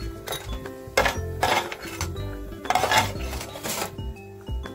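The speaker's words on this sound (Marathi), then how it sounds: "त्याच्यामध्ये बदाम टाकूया।" Almonds drop into a pan for dry roasting, producing a few bright clattering rattles and light metallic clinks in short bursts over a low background hum, close and without speech.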